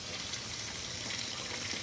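Water runs steadily from a tap, a continuous close hiss and splash with no voices.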